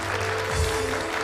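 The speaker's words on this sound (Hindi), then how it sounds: "बहुत सारी तालियां जावेद के लिए।" Studio audience applauding for Javed on a television show, a brief burst of steady, dense clapping over a low background hum.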